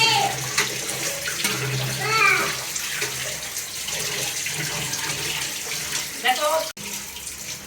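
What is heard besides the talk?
washing food under running tap water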